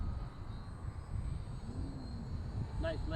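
A radio-controlled model airplane flying overhead after a landing on a windy, rainy day, its thin engine whine drifting steadily in the distance beneath outdoor wind.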